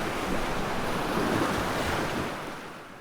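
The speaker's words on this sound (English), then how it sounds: "I think I will hear the waves of the sea" Sea waves wash in with a broad rushing surge, building and then fading as the surf recedes, with wind noise alongside.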